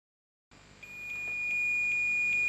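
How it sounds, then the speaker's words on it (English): A multimeter on continuity mode, testing a wire for an alligator clip repair, gives a steady, unbroken electronic beep that starts shortly in and holds at an even pitch over a low background hum. "take the multimeter and test it with the continuity"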